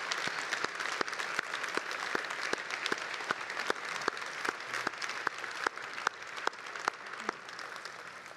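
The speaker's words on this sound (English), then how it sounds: "let's give Rich and Henry a round of applause" A conference audience gives sustained applause to close a World War II history event, dense clapping from many people with a few sharp, distinct claps standing out, steady and even throughout.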